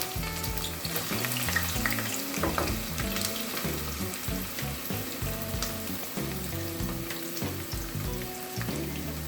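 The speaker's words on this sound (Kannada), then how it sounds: "ಇದನ್ನ ಒಂದು 5 ಟೇಬಲ್ ಸ್ಪೂನ್ ಆಯಿಲ್ ಹಾಕಿಬಿಟ್ಟು ನಾನು ಚೆನ್ನಾಗಿ ಗೋಲ್ಡನ್ ಬ್ರೌನ್ ಬರೋವರೆಗೆ ಫ್ರೈ ಮಾಡ್ತೀನಿ" Sliced onions fry in about five tablespoons of oil over a medium flame for chicken biryani, giving a continuous close, crackling sizzle with occasional stirring scrapes and no talk.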